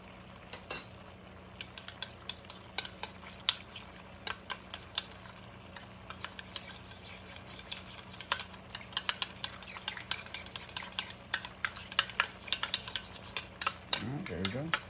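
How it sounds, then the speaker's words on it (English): Vegan sour cream being stirred into a stroganoff sauce, giving a steady run of light utensil clinks and scrapes against a pot, close and fairly quiet, with no talking. "We're gonna mix it in before we add it to it so it doesn't curdle."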